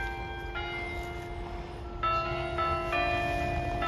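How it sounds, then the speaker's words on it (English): Church bells ring out at a landmark church in Reykjavik, Iceland, with overlapping sustained peals that swell louder partway through, tolling steadily against open outdoor ambience with no talking. "Did you hear the bells?"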